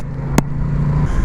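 A 2021 Aprilia Tuono 660 motorcycle engine runs on the road, a loud close drone with a short sharp burst near the start, then a steady held tone.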